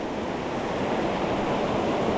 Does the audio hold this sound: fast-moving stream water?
yes